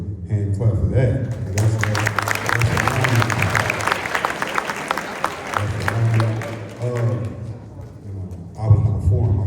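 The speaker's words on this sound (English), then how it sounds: "Let's give a hand clap for that." A crowd at a football banquet claps loudly for several seconds, a dense burst of applause rising after a spoken introduction, with a voice talking before and after.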